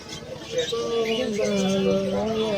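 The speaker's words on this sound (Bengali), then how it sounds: "এই যে এগুলা মেবি লাভ বার্ড" Several lovebirds chirping and calling together at close range in a pet market, overlapping warbling notes with a busy background murmur.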